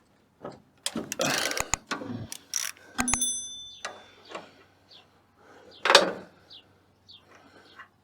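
A wrench works the 18 mm idler bolt on a Woodland Mills HM130 Max portable sawmill with sharp metallic clicks, ratcheting and clanks in irregular bursts, close by, with brief ringing tones between quiet pauses.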